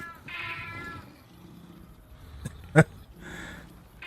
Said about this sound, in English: So, looks like this is an M16. And it shoots cats.